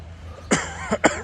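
A person coughs two or three times in quick succession, close and fairly loud, with a raspy throaty quality.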